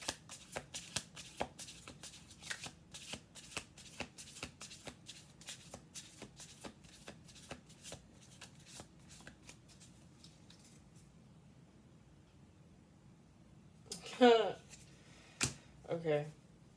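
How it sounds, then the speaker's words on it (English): A deck of cards is shuffled in a quick run of crisp riffling flicks over several seconds, thinning out toward the end, followed by a few louder close handling sounds and brief rustles. "we're gonna do one more shuffle"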